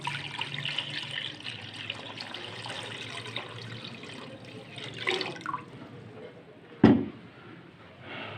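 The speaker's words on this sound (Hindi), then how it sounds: "हमने इसमें पानी डालना है" Water runs steadily into a cooking pot holding chicken for hot and sour soup, a trickling, splashing flow that fades before a sharp clank near the end.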